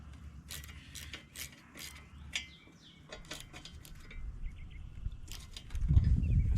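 Clanks and ratcheting clicks from a wrench working on shuttle shift parts of a Ford 545A backhoe, sparse metallic bursts at close range with quiet gaps and a low rumble toward the end.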